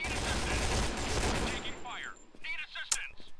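Gunfire in the Point Blank Strike video game, a dense sustained burst of rapid shots that thins into scattered shots and game effects, with a voice talking partway through.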